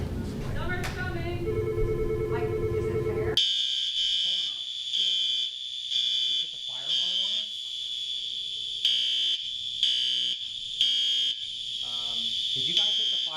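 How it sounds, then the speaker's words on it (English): A building fire alarm blares with a steady high electronic tone pulsing in repeated bursts, loud and continuous, while people talk over it. "Did you guys hit the fire alarm?"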